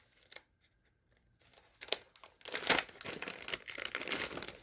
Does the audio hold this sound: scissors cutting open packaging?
yes